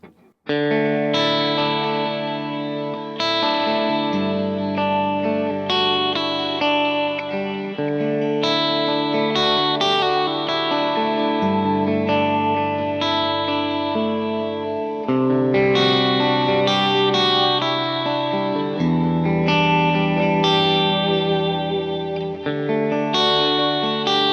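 Electric guitar chords and arpeggios ring out continuously with a shimmering, slightly chorused, mostly clean tone from a Kemper AC30 amp profile and no talking.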